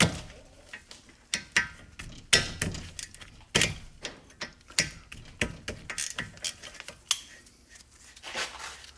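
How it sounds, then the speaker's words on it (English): A ratchet with a 14 mm socket loosening a brake caliper bolt on an Infiniti during a front brake pad and rotor change, heard as close, repeated clicking strokes in uneven bursts with a few sharper knocks. "we're going to remove this with a 14 millimeter socket"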